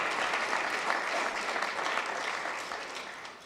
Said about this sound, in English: Please, let's give a round of applause for our international partners.